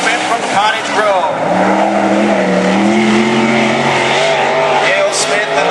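The number 41 Marvin Smith Auto Repair race car roars around the Cottage Grove track during a national qualifying lap, its engine note climbing and shifting steadily and loud throughout, with an announcer talking over it.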